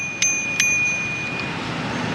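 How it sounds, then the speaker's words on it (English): A small bicycle bell on a newly bought bike gives two quick, bright rings with a short gap between them, the second ring fading into quiet background hiss. "So we have a small little bell here."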